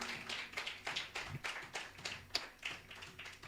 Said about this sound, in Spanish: Yo no sé si hay alguien que le dé el aplauso al Cristo.